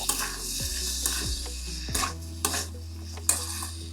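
Bean seeds and tomato pieces sizzling in a pan of spiced potatoes for a catla fish curry, a constant close hiss with a few scrapes and taps of a spatula stirring.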